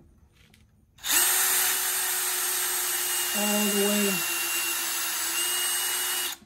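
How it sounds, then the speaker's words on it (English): A power drill bores a hole during a budget bathroom makeover, starting abruptly and whining steadily for several seconds with a brief rise in pitch midway, loud and close, with a short spoken phrase over it. "and then I'm gonna drill"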